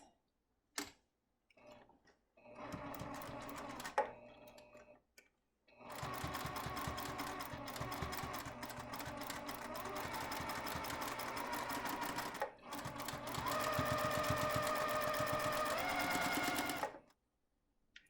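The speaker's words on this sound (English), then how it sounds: "now it's time to take it to the sewing machine to finish the edges" A sewing machine stitches the edges of a cloth face mask in steady bursts of rapid stitching, with short pauses between runs and a faint tick before the longer passes.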